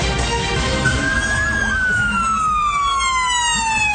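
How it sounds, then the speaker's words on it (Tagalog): A loud siren wails at 2 PM for a nationwide earthquake drill in the Philippines, at the University of Mindanao, its tone rising and then slowly sliding down, over steady outdoor background noise. "Eksaktong alas 2 ng hapon kahapon pagtunog ng sirena"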